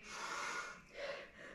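Two heavy breaths, a long loud inhale and then a shorter one, during a cool-down after an intermediate high-impact HIIT workout.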